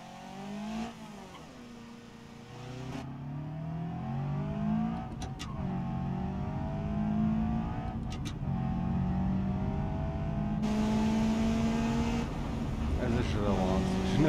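A car in the driving game BeamNG.drive hums along with a steady engine drone, shifting pitch as it accelerates, while people talk over it throughout.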